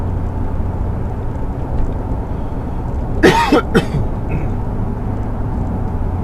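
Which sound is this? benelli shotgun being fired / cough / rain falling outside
cough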